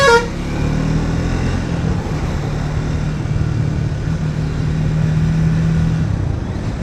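Motorcycle ride on a foggy winter morning road through the Tamhini Ghat route, overtaking a truck: a loud steady engine and road rumble, opening with a brief horn toot, continuing alone without talk.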